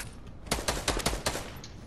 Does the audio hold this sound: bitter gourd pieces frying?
no